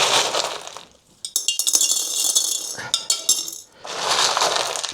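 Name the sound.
rocks and glass clinking together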